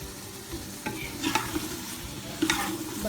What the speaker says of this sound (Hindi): बस अब मैं इसको दही डालूँगी और ये इसको भूनने रख दूँगी